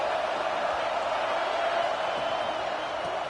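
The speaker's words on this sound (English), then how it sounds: "This crowd even louder now on second down as they try to hold on." A stadium crowd in a college football video game roars in a continuous, dense wash of cheering that holds steady throughout at moderate loudness.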